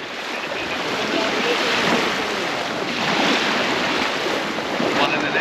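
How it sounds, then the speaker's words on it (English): Steady loud rush of wind and surf on open water off Bimini, Bahamas, with charter boats near, continuous and unbroken throughout. "They're both boats"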